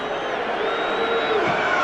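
A large football crowd at Stamford Bridge for Chelsea against Crystal Palace, a steady broad roar with whistles and cheers as players come onto the field, with commentary over it.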